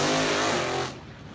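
A Ford EA Falcon drag race car with a locally built engine roars loudly on the track, a dense harmonic engine howl for about a second before dropping away abruptly.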